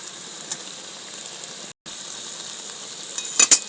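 Chopped tomatoes frying with spices in a pan for a fish curry, a continuous close sizzle with a brief dropout and a sharper burst of spitting near the end, no voices.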